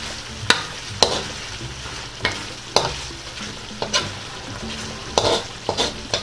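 Bird's eye chili stirred into a reducing coconut milk sauce for Bicol Express, with a steady sizzle broken by sharp, regular clinks and scrapes of a spoon against the pan, close and with no voices.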